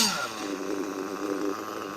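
A nitro-powered Kyosho US1 RC car engine revs hard under full throttle, a loud continuous buzzing whine that swells and holds steady for about two seconds, close to the listener with no talking.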